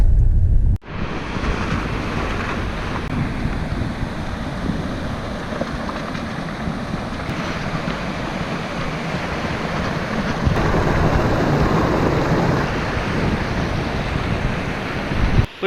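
Maling Nala stream rushes along a road in Spiti, a loud, steady wash of turbulent water mixed with wind buffeting the microphone, with no one talking.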